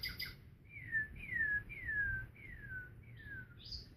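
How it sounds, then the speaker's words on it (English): Small bird singing a series of five clear, descending whistled notes in an even rhythm, close and distinct over a faint low background hum. "I pretend like I can hear the magic of his throat sending out the beautiful sounds of birds."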